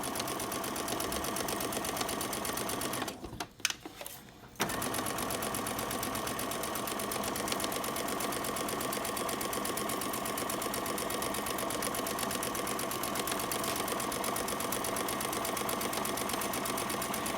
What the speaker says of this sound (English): Pick up, pivot, go back down.